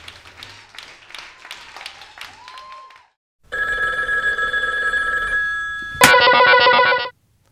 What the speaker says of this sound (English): I don't know how to answer the phone.